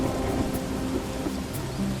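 Steady rain in a Hindi animated story about a poor farmer pours as a dense, continuous hiss with low rumbling undertones, loud and unbroken throughout.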